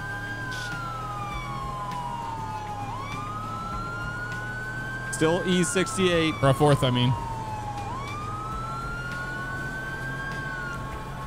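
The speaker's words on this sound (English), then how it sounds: "Kill my siren. Don't need it." A police car siren in the video game FivePD wails steadily in a slow rising and falling sweep over road noise while people talk briefly partway through.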